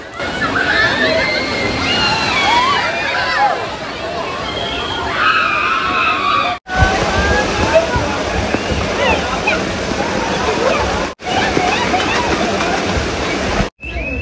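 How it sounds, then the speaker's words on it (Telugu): Big drum of water at a Wonderla water park ride tipping over, with heavy sloshing and splashing, loud and close, amid crowd babble and talk. "పైన కనిపిస్తున్న డ్రమ్ ఫుల్ వాటర్ నిండితే అప్పుడు వాటర్ అన్ని మీద పడతాయండి"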